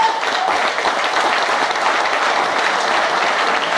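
Dense, steady applause from a large audience at a rock'n'roll concert, a loud continuous wash of many hands clapping together, with no voices standing out.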